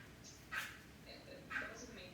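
A dog named Manhattan barks outside, two short distant yips about a second apart, faint against a quiet indoor background.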